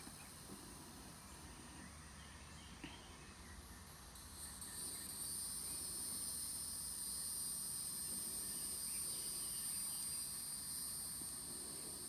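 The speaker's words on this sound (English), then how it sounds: "She's also fascinated by the cicada noise." Faint cicada buzzing drones in the background, a thin high whine that grows steadier and stronger halfway through.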